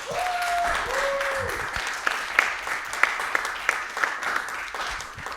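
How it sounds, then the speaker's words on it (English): Steady crowd applause with clapping throughout, joined by a couple of short whistle-like tones near the start, fairly close and moderately loud. "You give a bit of a round of applause, make them feel welcome."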